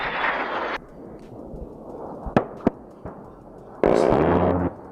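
AC-110 gunship aircraft firing: a roaring broadband burst, a couple of sharp cracking bangs, then another loud rumbling burst, all close and loud with no talking.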